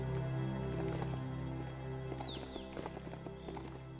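Horse hooves clip-clop steadily on the ground in the video game Biomutant, a quiet, even trotting rhythm under a low continuous hum of game ambience.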